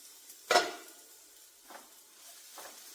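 A cooking pot lid lifted off, one sharp metallic clank followed by a couple of faint scraping touches, close and quiet otherwise.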